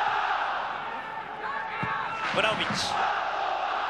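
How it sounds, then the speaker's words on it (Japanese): Crowd in a football stadium at a Padova versus Fiorentina match roars loudly in a steady wash, swelling with shouts and whistles while a commentator talks over it. "すごい歓声です。"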